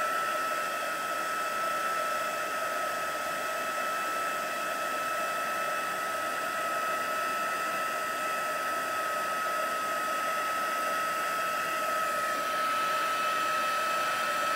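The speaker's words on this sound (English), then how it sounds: "while heating, just make sure that you are moving your heat gun in a circular motion" A heat gun blows a constant, close, loud whooshing hum with a steady motor whine while drying chalk paint on a DIY paper envelope, and no one speaks.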